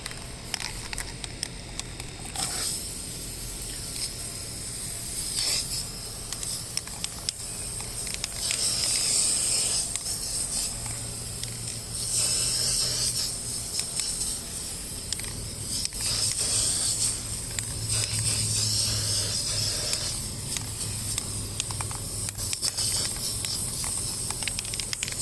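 Spray paint hisses onto car rims for a final coat, close bursts of airy spray starting and stopping repeatedly over a steady background.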